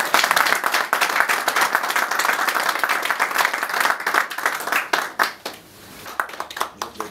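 A crowd at a political party gathering applauds loudly and densely, the clapping thinning and fading toward the end.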